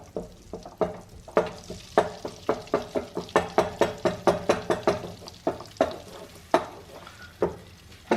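Butter melts in a pan while a utensil stirs and taps against it, giving a quick run of repeated knocks and scrapes over a soft sizzle, close and fairly quiet.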